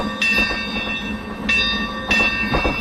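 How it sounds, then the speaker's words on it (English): Steam train running, heard from on board: a steady rumbling roll with repeated bursts of hissing steam and rhythmic clanks, fairly loud and close, with no talking. "You know, Rush, I gotta tell you, it's my first time on a train."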